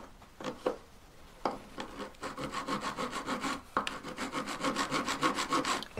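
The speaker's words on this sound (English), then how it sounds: "So I've got solder on this jump ring across the flat I just filed. I'm going to file it flat again." Hand file rasping across solder on a jeweller's jump ring, with steady back-and-forth strokes in close, even rhythm after a few short opening scrapes.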